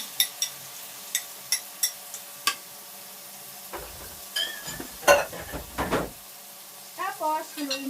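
Egg being stirred in a frying pan, with sharp metallic taps of a utensil at the start, then scraping, stirring and a soft sizzle in quick bursts, close by.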